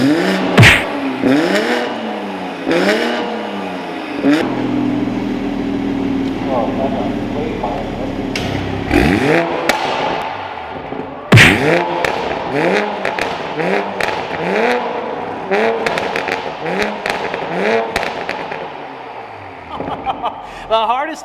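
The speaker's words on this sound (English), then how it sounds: "but it's a lukewarm startup" A Toyota Supra fitted with a new Rogue Performance downpipe starts up lukewarm and idles loudly, with crackly, uneven revs that rise and fall through repeated blips, close to the microphone, while people talk over it.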